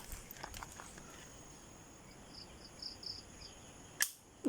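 A gunshot fired in a test of amulets, one sharp loud crack near the end after quiet background with a few faint ticks and distant tones.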